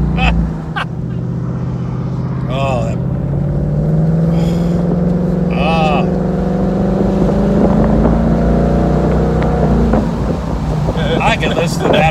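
A 2019 Ford Mustang GT Premium V8 engine drones loud and steady while driving, a deep continuous rumble with rising pitch sweeps as it accelerates, with brief higher bursts riding over it.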